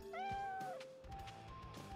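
A cat meows in a Monopoly PC game, with one drawn-out, rising then falling meow followed by fainter shorter mews, quiet and alone.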